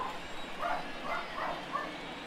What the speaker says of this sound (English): They're both barking.